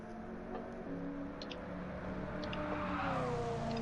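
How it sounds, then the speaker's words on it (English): A muscle car engine in a racing game, tuned for road racing at Le Mans, hums at moderate volume with shifting revving tones that climb toward the end, alone without talk. "But that car does make a pretty sound."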